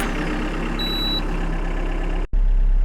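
A UHI 6-ton Chinese excavator's diesel engine runs steadily at close range, a continuous low rumble with a brief cut near the end before it resumes.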